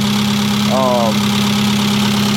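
A car engine runs after a new timing belt and replaced bent exhaust valves, idling steadily and loudly nearby with a constant low drone, while a voice briefly cuts in.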